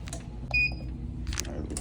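A heat press timer gives a short, clear electronic beep, surrounded by faint rustling and handling noises from pressing a clothing order with a Teflon sheet.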